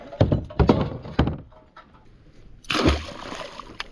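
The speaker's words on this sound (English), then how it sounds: "Let's throw anchor." A boat anchor thrown overboard from a small boat lands with a loud close splash and slosh of water after a few heavy thumps on the hull.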